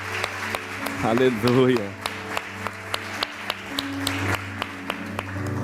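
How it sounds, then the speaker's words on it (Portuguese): Church congregation clapping for Jesus during a sermon, steady rhythmic claps near and fairly loud running throughout, under a preacher shouting and singing over keyboard music at the start. "Dá uma salva de palmas para Ele,"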